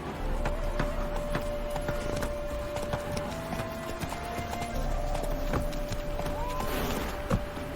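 Horse hooves galloping in The Witcher 3, a steady rapid clip-clop rhythm close by over a continuous low rumble and a faint sustained tone, with no speech.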